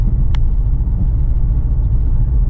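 Engine of a 2008 Subaru Impreza WRX, a steady loud low rumble heard from close by, with a single short high click near the start.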